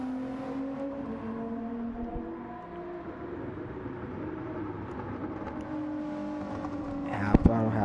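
A race car engine held at half throttle, a steady droning hum with a tonal whine that dips and climbs slightly before a sharp gearshift clunk near the end, with faint talk underneath.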